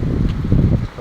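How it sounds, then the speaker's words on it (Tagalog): Strong outdoor wind buffets the microphone as a steady low rumble with gusting swells through the whole second, beside a muddy brown river, with no talk. "Ito, malakas ang hangin."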